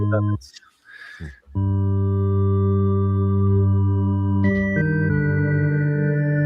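A sustained synthesizer tone in Bitwig rings with rich harmonics and a long, washing reverb tail, shifting pitch midway, after a brief noisy burst at the start.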